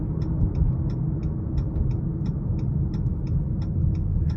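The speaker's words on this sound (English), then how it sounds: "Even on this rough patch of road, I can hear the tires" Tire roar of a 2023 Chrysler 300 Touring L with 3.6 engine on a rough patch of road, a steady low cabin rumble with faint regular ticking from the surface, no talking.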